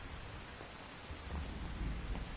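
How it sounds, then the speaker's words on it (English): Steady rain pours in Metal Gear Solid 3 with low thunder rumbling underneath, the storm swelling louder toward the end, with no voices. "You can entertain me until the rain stops."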